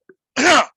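A single sharp sneeze from a podcast host bursts out loud and close after a tiny preceding catch of breath, lasting well under half a second.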